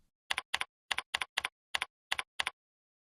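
Eight quick double-stroke bursts of keys clack on a computer keyboard while a command is entered in a Linux bash terminal, crisp and close with silent gaps between, no voices.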